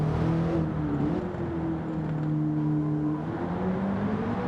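McLaren 650S supercar from Gran Turismo 7 driving steadily, its engine a sustained even drone with gentle pitch shifts as it holds speed, loud and continuous with no talking.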